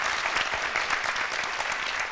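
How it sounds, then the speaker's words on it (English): A town hall audience of teens and adults at a high school event claps in a steady, dense wash of applause, sustained and fairly close throughout without pause. "Let's give him another round of applause."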